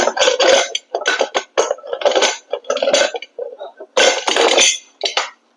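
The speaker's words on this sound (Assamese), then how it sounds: "এতিয়া মই ঢাকনিখন ইয়াত দি ল'ম।" Metal lid of a pressure cooker handled and set in place while cooking mutton curry, a series of close clanks, clinks and scraping metal knocks in uneven bursts.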